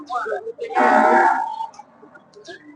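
Cattle at a busy livestock market in Mueang district, Maha Sarakham, letting out a loud, drawn-out moo that dominates the middle of the clip, with lower calls and market murmur before and after.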